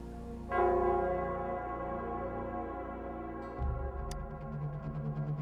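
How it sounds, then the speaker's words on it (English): The Nell Square bell rings in the Wuthering Waves game. A deep, resonant strike hums and slowly fades, then a second low toll sounds a few seconds later, joined by fainter chimes. "it's the Nell Squares bell."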